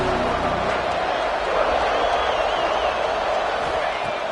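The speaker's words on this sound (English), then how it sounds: "3rd down, and the crowd really getting into it." Stadium crowd in the NCAA 25 college football video game, a steady wash of distant cheering and murmur that holds at an even level throughout with no distinct claps or shouts standing out.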